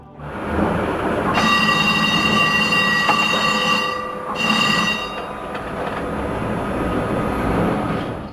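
A tram rumbles past close by on a Polish street, its wheels squealing in high sustained tones that fade and return over a steady rolling noise.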